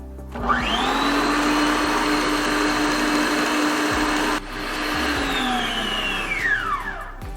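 An electric stand mixer runs at maximum speed beating batter for a Pernambuco bolo de rolo, ramping up to a loud, steady whine, briefly dipping midway, then winding down at the end.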